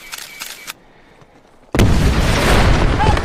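A war film scene in Afghanistan, where a quiet moment with a few faint clicks is broken by a sudden loud explosion that rolls on as a heavy, sustained rumble to the end.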